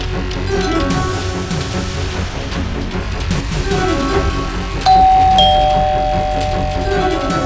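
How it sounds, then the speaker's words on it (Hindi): An electronic doorbell chimes over a busy indoor scene with voices and background music. "डोरबेल बज रही है, डोर तो खोलो।"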